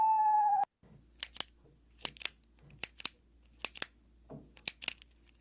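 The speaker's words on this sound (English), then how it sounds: "That is the sound of a pen clicking" A pen clicking close up in a quiet room, sharp paired clicks repeating about every second, six double clicks after a brief tone at the start.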